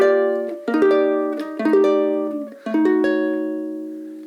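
Plucked ukulele chords strummed in a slow jazzy progression, three chord changes each left to ring and decay, played alone and close.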